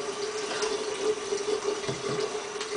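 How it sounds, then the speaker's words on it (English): Tap water runs steadily into a sink for hand washing, a continuous close splashing hiss with slight flutter and a faint tonal hum beneath, no voices over it. "Okay, I have to wash my hand"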